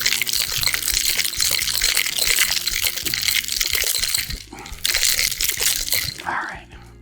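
Ice rattling inside a cocktail shaker while a Green Banana cocktail is shaken, a dense, continuous crunchy clatter that runs loud and steady and then eases off near the end.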